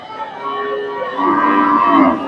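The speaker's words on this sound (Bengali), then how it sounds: "এখানে সুন্দর একটা গাভী দেখতেছি ফ্রিজি আনজাতের" A Friesian dairy cow moos at a Bangladeshi cattle market, a loud, drawn-out call close by that swells and holds for about two seconds.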